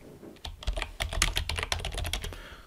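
Rapid typing on a computer keyboard, a close burst of crisp, irregular key clicks lasting a couple of seconds, with no voice over it.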